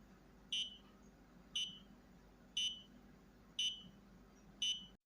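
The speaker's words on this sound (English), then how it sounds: "this program produces a beep every second. And this is the sound produced by ODI when we execute this program" Ody robot emitting a short high electronic beep once every second, five evenly spaced clean tones over a quiet background.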